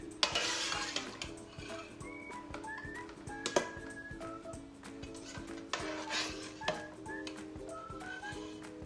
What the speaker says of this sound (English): so now you just stir